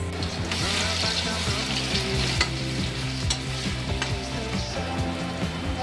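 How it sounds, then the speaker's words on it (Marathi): Ginger, garlic and chili paste frying in a pan, a dense continuous sizzle under a steady background hum, with quick utensil clicks and scrapes scattered throughout, close and loud, no voices. "अद्रक, लसूण आणि मिरचीची पेस्ट आपण टाकूयात."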